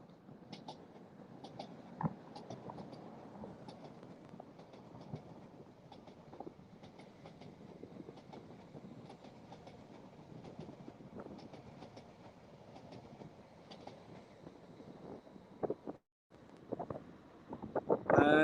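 A train runs past on the main line near Norwich, a steady rumbling roar with rhythmic clickety-clack from the wheels that holds for most of the stretch and fades briefly near the end, with no talking.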